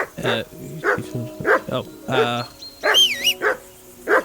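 Dog barking in the Kingdom Come Deliverance 2 video game, a string of sharp bow-wow barks repeating in quick bursts over music and game sounds, with a voice talking between them.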